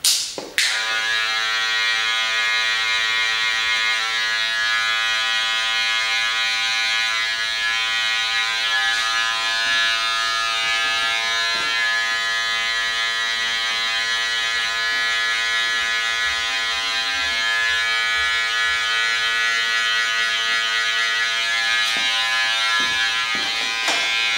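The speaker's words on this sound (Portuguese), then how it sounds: "a gente vai vir com a zero da máquina na alta, trabalhando somente a quina para remover essa linhazinha" Electric hair clippers set to zero buzz continuously and close up while trimming the edge of a fade haircut, a steady high electric whine holding for the whole stretch without talk.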